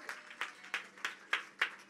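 A congregation at a church service claps in a slow, even rhythm, six distinct claps sounding faint and somewhat distant.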